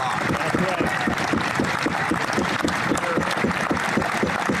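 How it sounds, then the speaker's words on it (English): Members in the Canadian House of Commons applaud during Question Period, a steady, rhythmic clatter of clapping and desk noise running continuously under a speaking voice. "Pierre gets some clapping"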